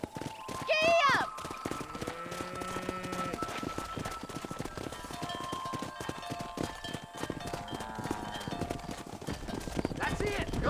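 A horse in the Western game Red Dead Redemption neighs sharply, then its hooves clip-clop in a steady galloping rhythm over a continuous bed of outdoor ambience and music, with voices speaking during the ride.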